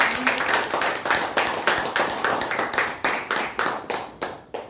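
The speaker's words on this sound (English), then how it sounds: "Let's have a round of applause once again for DTM." Scattered applause from a small audience at a Toastmasters club meeting, with claps falling in a loose rhythmic pattern, moderately close and steady throughout, with no voices.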